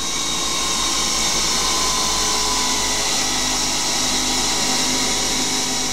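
A CNC lathe threads and bores a hex S1214 steel part for a vintage BSA motorcycle, giving a loud, constant, dense whirring roar with no breaks.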